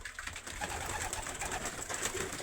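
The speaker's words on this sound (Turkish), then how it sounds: "Hepsi kendi kümesinden çıkan kuşlar" Racing pigeons cooing in their loft, soft overlapping coos repeating throughout over a busy background of rustling and faint bird noise.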